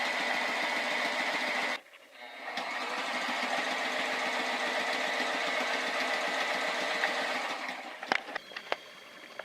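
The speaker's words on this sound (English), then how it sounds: "After all the stitching is done by sewing machine" A sewing machine stitches a sun cover onto the edge of a jib sail, running steadily with a rapid mechanical whir, pausing briefly once, then continuing before ending with a few sharp clicks.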